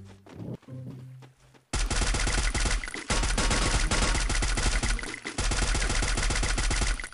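Gunfire in the battle royale game Garena Free Fire: after a few quiet seconds with scattered shots, dense automatic bursts break out and keep going loud and rapid, briefly pausing twice, with no voices over it.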